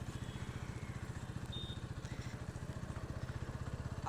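A KTM Duke motorcycle engine idles close by in a steady, fast, throbbing putter that holds level throughout, with no talk over it.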